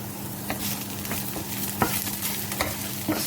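Garlic and onions frying in oil in a pan for seafood linguine, a continuous sizzle with a low steady hum beneath and occasional soft scraping stirs.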